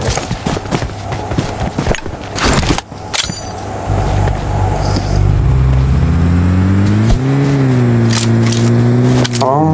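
A car engine in PUBG Mobile revs up and holds a rising, steady drone while driving, loud and close, after a stretch of scattered game sounds and clatter.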